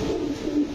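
A male Pakistani pigeon with a crested neck gives a low, throaty coo, brief and close, in a short continuous phrase.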